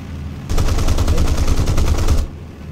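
Rapid automatic machine-gun fire from a CAC Boomerang Mk1 fighter in War Thunder bursts out and rattles continuously for nearly two seconds, loud and close, with heavy booming cannon fire mixed into the stream.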